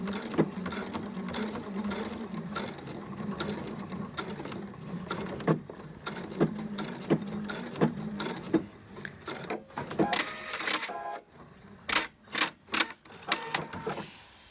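Sewing machine stitching a seam on a shirt of Liberty fabric, a fast mechanical whirring chatter running in bursts with brief pauses and clacks, close and without talk.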